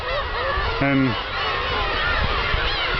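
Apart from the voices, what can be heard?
seagulls calling at the Kabushima rookery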